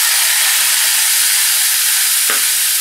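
Chili, fresh coconut and cumin paste hitting a hot pan, producing a loud steady sizzle and hiss throughout, with a brief clunk near the end and no talk.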